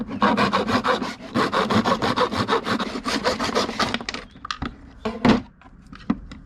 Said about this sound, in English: I'm just gonna use my little homemade saw.